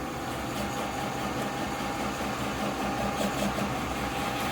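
A knife polishing machine runs at 800 to 900 RPM while removing scratches from a blade, giving a steady, continuous motor hum with a faint high whine that holds even throughout.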